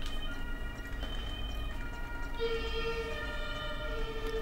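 An emergency-vehicle siren from a 1997 racing video game demo wails steadily with sustained tones. Partway through, the pitch shifts to a new pattern, and the siren stays loud and alone over constant engine-like game noise.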